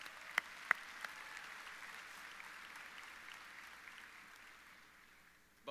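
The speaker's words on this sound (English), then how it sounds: "Yeah, you can clap." A large, distant crowd claps steadily in a wide outdoor space at a Roosevelt High School graduation ceremony, with a soft, washy texture, a couple of sharp nearby taps, and the applause fading toward the end.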